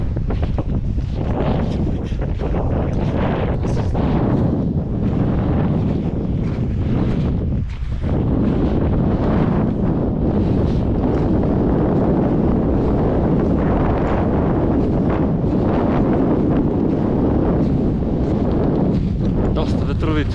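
Strong mountain wind at about 2550 metres on Rila in winter fog and ice, roaring continuously and buffeting a nearby microphone with loud, unbroken rumble.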